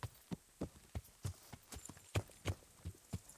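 Horse hooves clip-clop at a steady trotting rhythm in the medieval game Kingdom Come Deliverance, soft and even against a faint background hum, with no speech.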